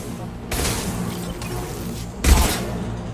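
A concussive shot fires in Mass Effect 2 as a burst of gunfire and booms within combat, with a louder concussive impact near the end over steady game noise.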